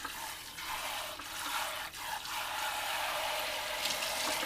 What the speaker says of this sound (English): You're just going to rinse the dal till it comes out fairly clean with your water return.